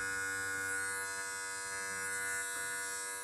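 Electric hair clipper running during a home haircut gives a steady close buzzing hum with a bright mechanical whine, constant throughout, no talking.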